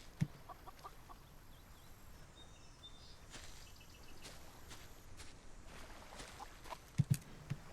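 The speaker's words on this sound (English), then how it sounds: "Sugar's a strange chicken, but we love her anyway." A video game chicken clucks in a few soft, scattered bursts over a quiet, steady ambient background, with faint footstep-like taps near the end.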